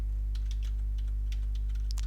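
Several soft keystrokes on a computer keyboard typing an email address into a login form, faint and scattered over a loud, steady electrical hum.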